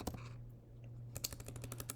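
Typing on a computer keyboard: a short run of quick, soft key clicks, a pause, then a denser burst of keystrokes, quiet and close.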